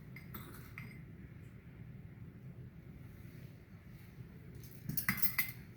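Sugar is spooned into strawberry soup, heard as a few light metallic spoon clinks on a bowl, quiet at first, then a small cluster of louder clinks near the end.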